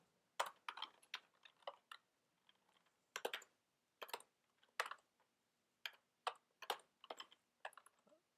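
Computer keyboard typing in quick bursts of crisp key clicks with short pauses between words, close and quiet in an otherwise silent room.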